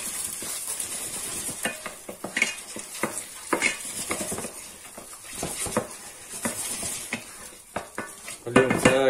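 Spoon stirring chicken with mushrooms, salt and spices in a frying pan, with repeated scraping and clinking against the pan over a soft sizzle, ending in a louder rattle.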